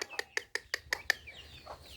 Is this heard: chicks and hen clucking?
yes